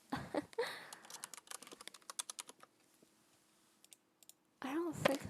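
Fast keyboard typing with a run of crisp clicking keystrokes, close and fairly quiet, with a person talking at the start and again at the end.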